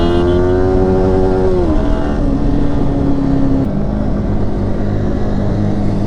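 Motorcycles, including a Pulsar 220 and an R15, race through heavy traffic, their engines droning loudly and close with a rising then falling rev pitch and steady low rumble throughout.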